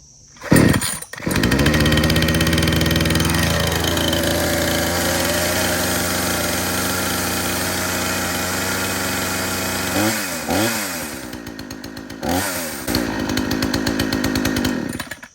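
A Craftsman S205 gas chainsaw is pull-started, its small two-stroke engine catching after a short tug and then running loud and close at a steady idle, with a few brief revving blips near the end.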